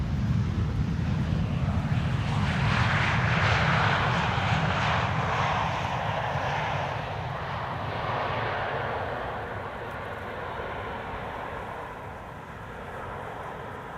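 A Caravan aircraft lands on the Polderbaan runway at Amsterdam Schiphol Airport, a steady broad engine roar that swells, peaks and slowly fades while heard from a distance outdoors.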